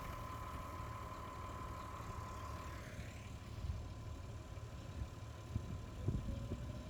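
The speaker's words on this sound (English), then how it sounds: "I hear a tractor behind me," A tractor engine idles steadily behind a cyclist waiting for a car ferry in the Netherlands, a continuous low rumble with no talk over it and a few louder bumps near the end.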